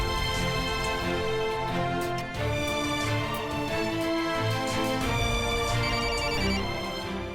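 A phone ringtone rings out as a loud, continuous melodic electronic tune with layered tones, playing without pause for several seconds, close by and with no voices over it.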